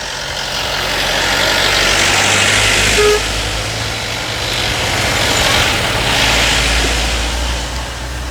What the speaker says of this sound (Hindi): ट्रैफिक आ गया था इसलिए मैं चुप हो गया था।